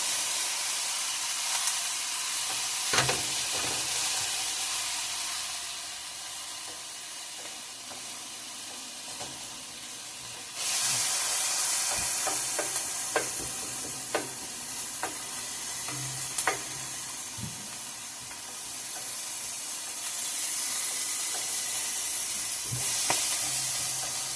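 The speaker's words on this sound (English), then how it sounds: "Okay, we're going to fry our peppers. Our skillet is hot. And our onions." Peppers and onions frying in a hot skillet, a steady loud sizzle throughout, broken by occasional sharp clicks and scrapes of stirring and a surge in hissing partway through.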